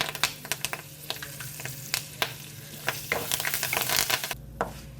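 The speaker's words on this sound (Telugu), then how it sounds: "ఇప్పుడు వీటిని మరికొద్దిసేపు ఫ్రై చేసేయండి" Asafoetida, chopped green chilli and curry leaves frying in hot oil, a steady close sizzle broken by repeated crackles and pops, with a sharper burst near the end and no talking.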